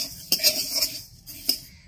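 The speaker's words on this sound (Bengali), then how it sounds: "মুগ ডালটা দিয়ে হালকা করে ভেজে নেব," Moong dal being lightly roasted and stirred in a hot wok, with a few sharp metallic clinks of the spatula against the pan over a soft, steady hiss.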